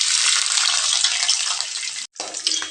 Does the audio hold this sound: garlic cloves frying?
yes